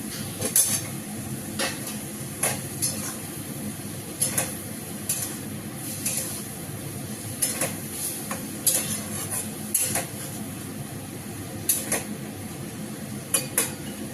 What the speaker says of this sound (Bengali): আমি এবারে এই কোপ্তাগুলোকে ছেড়ে দেবো।